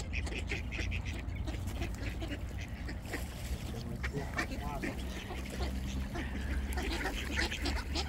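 Ducks being fed quack softly nearby amid outdoor background noise, with people talking quietly throughout.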